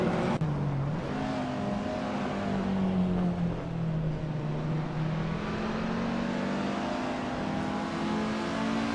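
Slow-class race cars in a video game race drone and rev steadily, a continuous engine whine rising and falling as the pack runs close together, with no talk over it.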